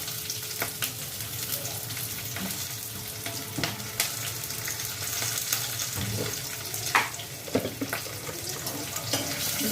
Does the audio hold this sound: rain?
no